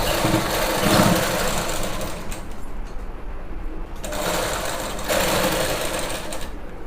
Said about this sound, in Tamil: இப்போ நம்ம இதை தைக்க ஆரம்பிக்கலாம்.